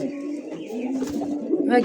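Red desi pure Rajgola pigeons coo softly and continuously in a low rolling murmur, with a brighter burst near the end, while voices talk nearby.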